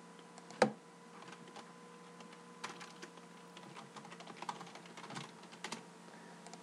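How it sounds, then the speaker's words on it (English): Rapid computer keyboard typing, a quiet scatter of close clicks and taps after one sharper knock, steady and faint with no talk over it. "You're gonna hear some keyboard typing."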